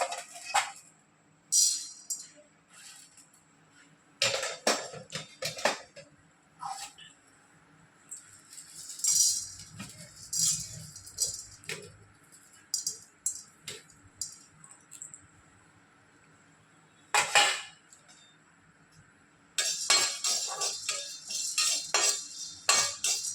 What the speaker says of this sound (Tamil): அடுத்து கடலை பருப்பு எடுத்து போட்டுக்கிறேன்